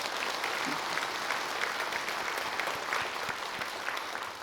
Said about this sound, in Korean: 그 하나님께 우리 감사와 영광의 박수 한번 올려드리겠습니다